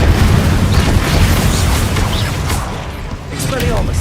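Incendio fire spell cast in Hogwarts Legacy, a loud, sustained rumbling blast of flame that roars steadily for several seconds, close and dense, dipping briefly before swelling again.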